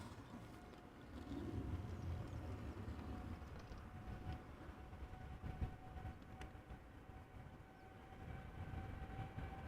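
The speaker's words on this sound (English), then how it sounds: "Let's also quickly go back to the Dreamliner that is now spooling up" Boeing 787-8 Dreamliner jet engines spooling up at Amsterdam Schiphol Airport, a steady distant rumbling roar that swells and holds for several seconds, heard alone without talk.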